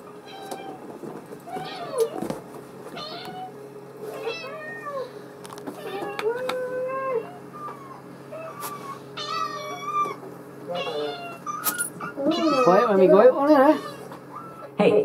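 A cat meows repeatedly, with several distinct drawn-out calls that grow louder and more insistent toward the end. People talk at moments throughout, and there is a faint steady hum underneath.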